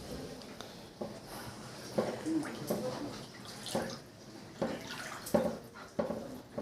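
Typhoon floodwater sloshes and splashes as it rises around a flooded area in Hagonoy, Bulacan, with irregular watery surges and drips at close range and a faint voice in the background.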